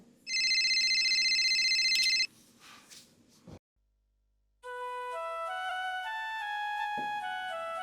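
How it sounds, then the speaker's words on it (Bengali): A phone rings with a bright electronic ringtone, first a short burst, then after a brief pause a longer melodic ring carrying on steadily, fairly close. "তোমার ফোন আসছে, দেখো।"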